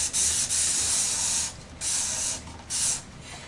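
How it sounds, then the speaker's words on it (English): Dawn Power Wash dish spray hisses from a trigger bottle in several close, bright bursts, each a second or so long with brief pauses between. "So I've got my Power Wash right here and I'm just going to kind of spray."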